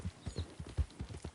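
A horse gallops in Red Dead Redemption 2. Its hooves thud in a quick, rhythmic run of soft beats, fairly faint throughout.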